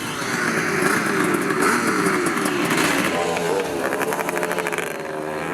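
A 1954 Triumph Tiger motorcycle races at Glen Helen Raceway, its engine roaring loud and close in a sustained, rising drone with a fluttering rasp near the end.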